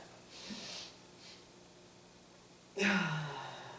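A deep, energizing breath: faint airy inhales early on, then a sudden loud forceful exhale that tails off gradually, close to the microphone.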